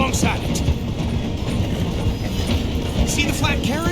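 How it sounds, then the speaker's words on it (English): Steady rumble and rattling clatter of a train slowing through a station in Red Dead Redemption 2, with intermittent brake squeals and voices talking over it. "The train is slowing down to go through the station."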